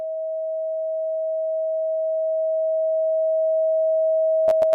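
A steady 639 Hz sound-healing tone plays alone as a pure, unbroken hum that swells slightly in loudness, with a few brief taps near the end.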